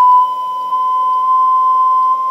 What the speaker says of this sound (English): But the asymmetrical plate just keeps vibrating.